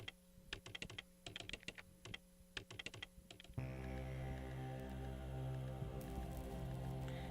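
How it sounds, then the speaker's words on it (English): Rapid, crisp clicking from the video game Parasite Eve comes in quick, uneven clusters for a few seconds. A steady synthesized music drone then takes over. "And that clicking sound."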